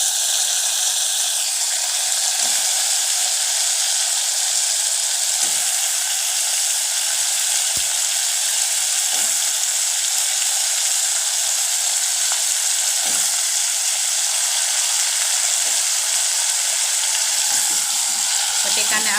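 Unpeeled potatoes for a festive-style potato curry fry in hot oil, a steady close sizzle with intermittent scraping stirs and knocks, with no clear talk above it.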